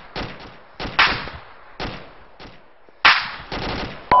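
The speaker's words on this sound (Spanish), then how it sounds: "ametralladora" Bursts of automatic machine gun fire from a tactical game, several rapid strings of shots separated by short pauses, loud and close with no voices.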